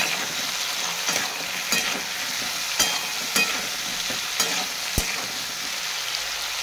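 Potatoes frying in a pan with salt as they are stirred, a steady close sizzle broken by several sharp scraping strokes of the utensil, with no talking.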